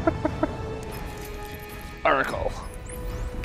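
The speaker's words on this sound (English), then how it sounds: "Chickens." Chickens in the Batman Arkham Knight game give a quick burst of soft clucks at the start, followed by a louder, fluttery squawk midway, against a steady game ambience.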